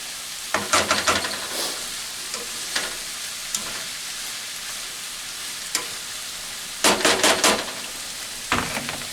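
Chopped vegetables with finely cut garlic cook for gumbo in a pot, giving a steady soft sizzle broken by a few bursts of louder scraping and stirring.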